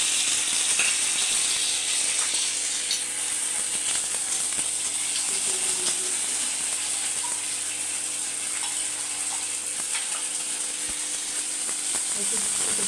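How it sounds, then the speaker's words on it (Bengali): A steady, close sizzle of cumin with ground ginger and green chilli paste frying in hot oil, continuing evenly throughout with faint scraping clicks. "একটু ভালো করে ভেজে নিলাম।"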